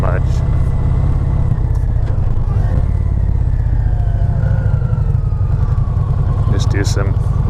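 A 2020 Indian Challenger motorcycle engine running steadily on the road, a low throbbing rumble with wind noise, while someone talks over it.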